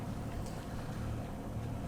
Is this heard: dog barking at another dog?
no